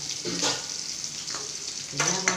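Mustard seeds, curry leaves and chopped onion frying in hot oil for sambar, a steady close sizzle with brief louder bursts as ingredients hit the pan.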